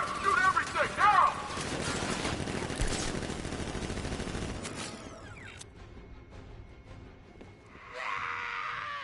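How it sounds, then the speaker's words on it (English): Sentry guns in a Dark Knight Rises video game let loose rattling automatic fire and mechanical clatter. The fire is dense at first, then thins out into quieter mechanical noise, with voices present. "Open fire! Shoot everything! Now!"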